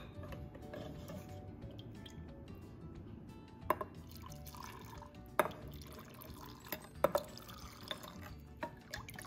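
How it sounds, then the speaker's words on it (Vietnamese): Pickling brine, boiled with sugar and salt and cooled, poured into a glass jar of pickled shallots, giving soft running liquid with a few sharp drips and glassy clinks, close and fairly quiet, no voices. "Rồi bây giờ mình sẽ chế vào cái hũ củ kiệu của mình nè."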